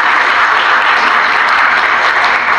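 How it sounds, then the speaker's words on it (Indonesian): An audience at an inclusive education launch event gives loud, dense, continuous applause that holds evenly throughout. "Tepuk tangan sekali lagi buat ibu-ibu dari Wawasekim."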